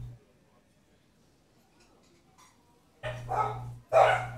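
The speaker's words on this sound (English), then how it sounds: "Oh, don't start barking, guys, please." Dogs barking in a game scene, with two loud, close bark bursts coming after a few seconds of near silence and a low droning tone.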